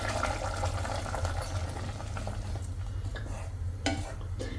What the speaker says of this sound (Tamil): இப்போ இதில் அரைச்சி வச்ச தேங்காய் பேஸ்ட்டை சேர்த்துக்கிறேன்